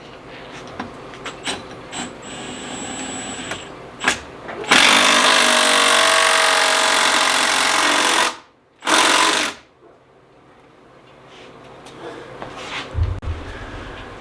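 Impact gun driving bolts into a flywheel puller on a 650SX engine, a loud rattling hammer-like burst lasting several seconds, then a second short burst, with quieter workshop clatter before and after.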